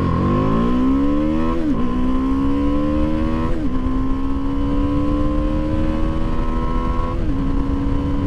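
A 2023 BMW G310R single-cylinder motorcycle pulls hard at full throttle, its engine note climbing loud and close through the gears, with brief dips at each of three upshifts before rising again.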